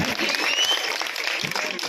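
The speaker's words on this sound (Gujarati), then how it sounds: "ભાઈ જોરદાર તાળી થઈ જાય યાર." An audience at a live event in Barvala claps in a dense, steady burst of applause, with people talking over the clapping throughout.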